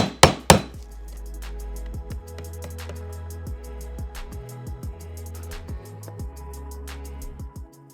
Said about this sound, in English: now that I've scored it with the knife, I can come in with the chisel,